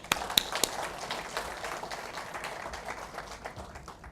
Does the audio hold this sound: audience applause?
yes